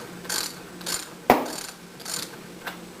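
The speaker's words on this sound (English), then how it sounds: "I use my ratchet wrench" A ratchet wrench snugs a nut and bolt on a jointer-side clamping setup, giving soft rhythmic clicking bursts with one sharper clack in the middle, close and fairly quiet.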